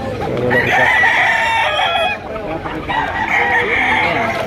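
Chickens cluck and a rooster crows loudly nearby at a busy chicken market in Lipa, Batangas, two long crowing calls over steady clucking.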